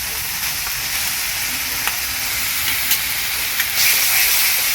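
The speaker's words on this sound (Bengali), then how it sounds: "এবার আমি আদা রসুনের পেস্টটাও দিয়ে দেব।" Ginger garlic paste sizzles steadily in hot oil with frying onions, a constant bright hiss punctuated by a few small pops and spatters from stirring, heard close and alone.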